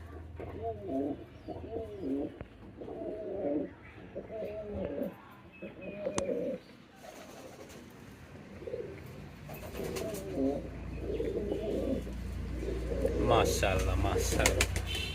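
Soft repeated cooing of a Spanish pouter pigeon in short rhythmic bursts, with a person talking intermittently and a steady low background hum.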